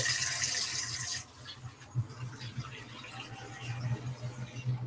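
Hot water runs from a tap with a broad steady hiss, loudest in the first second before easing to a softer, gurgling flow that continues to the end.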